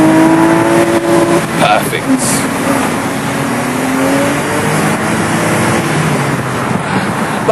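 Porsche sports car engine revving as the driver drops down a gear or two, a loud, steady engine roar with a rising rev in the first seconds, close and continuous, with a voice speaking briefly over it.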